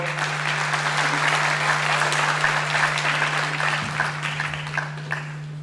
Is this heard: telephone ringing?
no